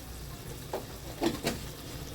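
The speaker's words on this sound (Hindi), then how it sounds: "भूनना है हमको अच्छी तरह से इसको जब तक ऑयल इसका सेपरेट नहीं हो जाता" Cauliflower kofta curry masala fries in oil under a steady low sizzle, broken by a few soft scraping stirs close by.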